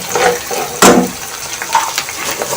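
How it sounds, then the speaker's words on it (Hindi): Chopped green chilies fry in a pan, a loud, steady hiss and sizzle close by with a brief burst of louder crackle as the pieces are moved. "बस इसे 1 मिनट के लिए फ्राई करूँगी इस हरी मिर्चों के साथ"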